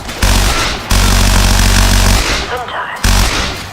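Gunfire in BioShock Infinite comes as several loud, close bursts with short pauses between them, while game voices shout over the shooting.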